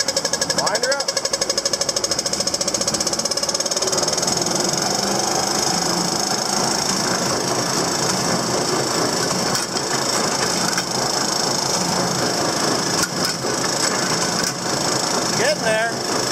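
A Krone baler runs steadily after being wound up, a loud continuous mechanical clatter and drone with knocking and rattling throughout, close by and unbroken.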